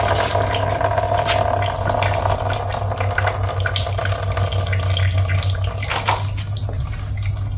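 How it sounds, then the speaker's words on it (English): Coolant draining steadily out of a Holden Barina radiator, a continuous loud gushing splash of liquid that runs without a break throughout, with a low hum underneath and no talking. "So we're going to drain the coolant."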